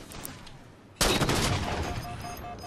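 Gunfire in the Halo 4 video game erupts abruptly after a quiet moment, a dense loud burst of rapid shots with ringing tails that keeps going to the end.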